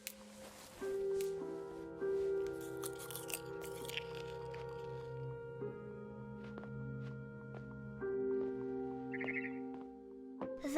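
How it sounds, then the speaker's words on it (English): A barn swallow chirps in the video game What Remains of Edith Finch, with brief, faint high chirps near the end over sustained tonal music. "Then I heard chirping outside my window."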